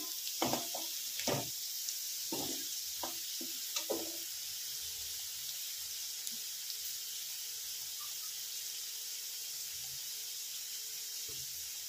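Potatoes fry in a pan over a low flame for dudh sukto, a soft steady hiss with scattered light spatters and stirring clicks clustered early, then settling into quiet frying.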